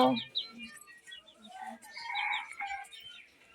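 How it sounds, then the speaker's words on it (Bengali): A chicken at a rural Bangladeshi homestead gives a few close, uneven clucks and calls that rise and fall over a quiet background. "দেখেন এই দেখ একটা মুরগি"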